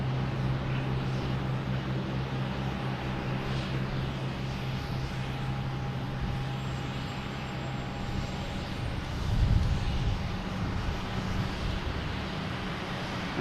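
Distant aircraft engine drone at Boston Logan Airport, a steady low rumble with a faint whine as airliners taxi toward the runway, swelling briefly near the end.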